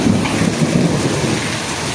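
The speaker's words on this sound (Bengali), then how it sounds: "ব্যাপক পরিমাণে বৃষ্টি হচ্ছে, ব্যাপক।" Heavy monsoon rain pours down hard in the middle of the night while thunder rumbles low and close, a dense, loud, unbroken roar with no voices.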